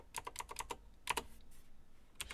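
Computer keyboard typing: a quick run of about six crisp keystrokes, a short pause, then a few more clicks and a final tap, close and fairly quiet.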